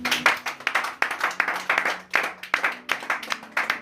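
A church congregation claps in a brisk, fairly rhythmic beat, loud and close, with a faint tone underneath.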